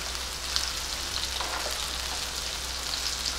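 Okra (bhindi) cooks on a low gas flame in a pan for a restaurant-style bhindi masala, with a steady, soft sizzle and faint crackles running throughout and no talking.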